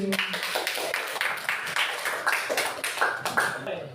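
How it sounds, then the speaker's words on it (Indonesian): Classroom of students clapping hands together in a steady, moderately loud patter of many quick claps lasting throughout, with a teacher's voice and some voices faintly heard over it. "tepuk tangan lagi"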